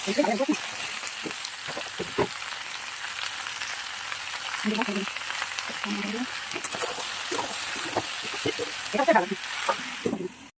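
Panch phoron spices fry in a hot pan with a constant bright sizzle and crackle, occasionally stirred, while a voice talks softly underneath.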